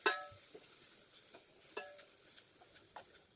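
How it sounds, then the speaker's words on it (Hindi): Crushed ginger and other ingredients roasting in a pan for amla candy, heard as a faint, quiet sizzle with a few soft spoon taps and scrapes scattered through. "सबको अच्छी तरह से भून लेंगे"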